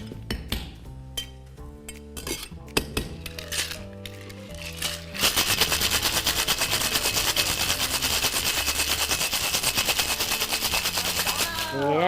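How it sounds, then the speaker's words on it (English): A cocktail shaker is handled with a few sharp glassy clinks, then shaken hard with ice in a dense, continuous, loud rattle that runs for several seconds, close up. "when you have nothing else to do to your cocktail, the only thing you can do is shake, shake"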